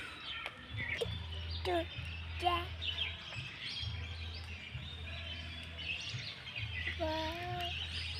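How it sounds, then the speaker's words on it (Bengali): Birds chirp and call at a large pond in the morning, with short bright tweets and a few rising whistles scattered over a steady low hum and background noise. Some faint voices may be present. "কিচিমিচি পাখিদের গান"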